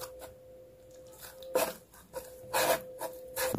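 Coriander leaf pakora batter of gram flour and water is mixed by hand in short, wet, squishy bursts of rubbing and stirring, a few seconds apart, over a faint steady hum.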